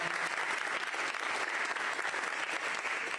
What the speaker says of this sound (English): Let's give another round of applause to the whole Sukup senior team here.